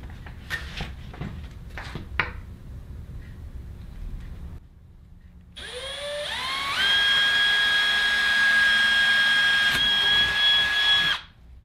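A power drill bores holes in a DIY gear storage platform built for a third-row seat delete: a few knocks and clatters, then a loud, close motor whine that spins up and holds steady for several seconds before cutting off.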